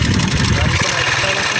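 Motorcycle engine idling nearby, a loud steady low rumble with rapid pulsing, while people talk over it.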